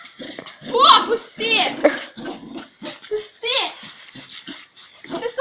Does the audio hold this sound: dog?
yes